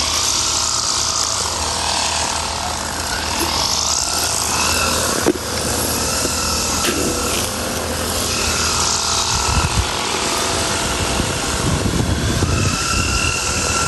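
A grass cutter runs steadily beside a milkfish pond, its loud, continuous motor drone filling the whole stretch with little variation and a few brief knocks mixed in.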